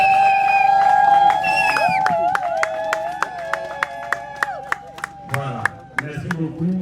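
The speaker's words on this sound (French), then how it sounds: "on remet symboliquement sous les acclamations de tout le monde." At a funding ceremony for young women entrepreneurs in Kinshasa, sharp rhythmic claps keep a steady beat beneath sustained sung or ululating voices, close and fairly loud, with the chorus breaking up near the end.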